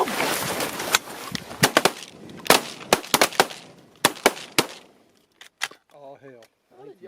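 Shotgun volley fired by a group of hunters at sandhill cranes in the Texas Panhandle: a ragged burst of about a dozen sharp, loud reports over a few seconds, then quiet with a few bird calls.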